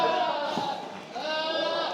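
Malaysian goats penned at a farm call out in drawn, quavering bleats, a few voices overlapping up close, with people talking nearby.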